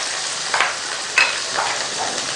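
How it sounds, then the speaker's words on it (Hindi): Green chillies frying in hot oil for prawn fried rice, a steady broadband sizzle with a few brief bursts as the pan is stirred, close and continuous with no talking. "ऑयल में हरी मिर्चें"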